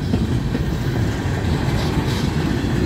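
A southbound manifest freight train with tank cars of molten sulfur rolls uphill past at close range, a continuous loud low rumble with steady wheel noise throughout.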